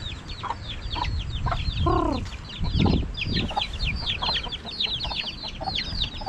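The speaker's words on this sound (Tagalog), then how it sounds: "daming mga sisiw" A flock of chickens and small chicks clucking and cheeping beside a rural house in the Philippine countryside, a steady chorus of high peeps over low clucks, with a louder hen call standing out near the start.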